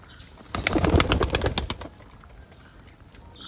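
Several high-flying pigeons from Khulna of an old breed take off, a burst of flapping wings lasting about a second and a half before fading into quiet surroundings.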